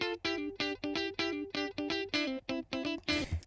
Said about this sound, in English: Now the next guitar here is also very dry.